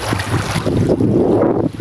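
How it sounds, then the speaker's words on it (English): Water flowing on a nature walk outdoors, a steady broadband wash with rumbling low end and wind buffeting the microphone, loud and continuous throughout. "a lot of people come in because they like the sound of the water"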